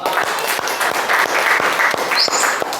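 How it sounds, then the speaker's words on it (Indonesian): Classroom audience applauding a student presentation group: a steady run of many hands clapping close by, filling the whole moment with no voices. "kita berikan lagi aplaus buat kelompok 4"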